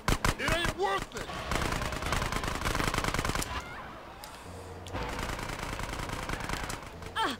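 Rapid machine pistol gunfire in the video game GTA San Andreas, loud sustained bursts of automatic shots with brief pauses, continuing through most of the stretch alongside game effects.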